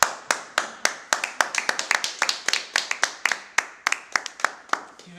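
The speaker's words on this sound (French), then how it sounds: "je vous applaudis" An audience claps for participants at a writing event, a smallish group producing distinct, sharp hand claps in an irregular but steady patter, close and clear, with a faint murmur of voices underneath.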